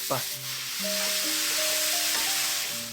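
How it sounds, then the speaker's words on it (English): Pork pieces sautéing in a hot pan for a Filipino siopao filling. A broad, continuous sizzle comes with stirring noises, and soft background tones sit underneath. There is no talking. "I will saute it for just 5 minutes."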